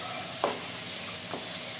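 A spatula stirs a spice mixture softly in a pan for doi katla, a Bengali yogurt fish curry, giving two brief scraping strokes over a faint, low sizzle.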